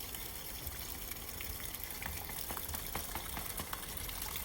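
Rakyo bulbs being washed in water, with continuous splashing, sloshing and trickling as the bulbs are rinsed by hand, close and fairly quiet with no talking.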